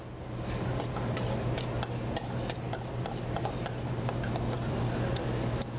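Chopped chive and lemon confit being stirred with lemon vinaigrette in a bowl, a steady run of soft scraping and light ticking utensil clicks against the bowl, close up and continuous with no talk.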